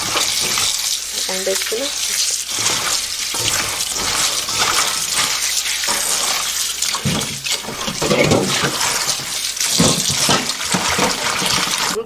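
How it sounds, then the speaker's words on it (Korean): Tap water runs steadily as salted cucumbers are rinsed in a kitchen, a loud, continuous splashing stream with handling noises and someone speaking briefly over it. "그래서 이제 이걸 헹궈줄게요."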